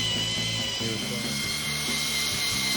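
A power drill whirs at a steady high pitch with a low pulsing motor drone underneath, continuous and close.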